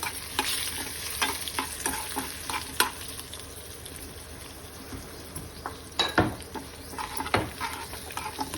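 Dried red chillies and green chillies fry in hot oil alongside sesame seeds for a tomato roti pachadi, a steady sizzle broken by repeated stirring scrapes and a few sharp utensil knocks against the pan.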